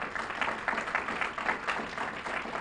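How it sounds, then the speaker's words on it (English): Steady, dense applause from a symposium audience fills the room, a continuous even wash of many hands clapping at fairly close range with no voices over it. "She deserves a round of applause,"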